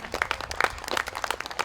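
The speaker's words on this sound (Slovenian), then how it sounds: "En aplavz še za direktorja." Residents and staff of a care home clap for the director during a presidential visit, a sparse group applause of distinct, uneven claps close by.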